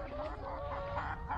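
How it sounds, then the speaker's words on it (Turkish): Chickens clucking close by while wandering underfoot during a lemon harvest in an orchard, a steady run of soft, overlapping clucks against an outdoor background. "Tavuklar da ayağımızın altında dolaşıyor."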